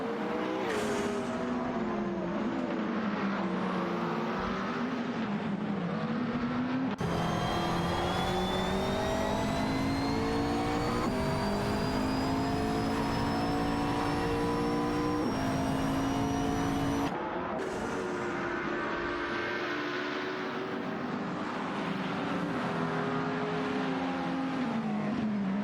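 Race cars roaring through an AI racing video game, with sustained engine drones that rise and fall in pitch as the cars accelerate and pass, loud and continuous throughout with sudden shifts in engine tone.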